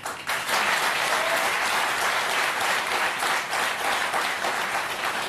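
Studio audience applause on a French television talk show, dense and steady clapping from a full crowd that stays loud and even throughout, with no voices over it.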